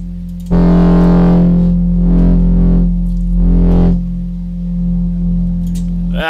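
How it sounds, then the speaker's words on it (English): Dirty distortion effect from a Reason Black Pole Station device, a loud buzzing synth tone swelling in several repeated pulses over a sustained droning note, alone without talk. "That's a little dirty distortion."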